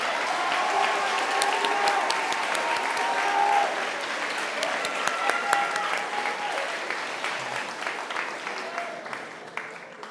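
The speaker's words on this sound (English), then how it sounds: "Let's get a round of applause for all of our nominees." A crowd applauds nominees at a school stepping-up ceremony, with sustained clapping filling a hall and a few cheers over it before it tapers slightly near the end.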